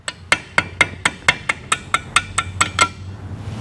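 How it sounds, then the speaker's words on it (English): A rubber mallet taps a part down into a balancer bearing in a split Harley-Davidson M8 engine case, striking about a dozen times in a steady rhythm. The crisp, ringing knocks are close and clear, with no talking. "with just a slight tap of a rubber mallet"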